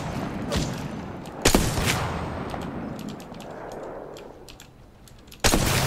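Kraber sniper rifle firing in a first-person shooter game: two sharp, loud shots around a second and a half apart, then another blast near the end, with small clicks and handling noises between.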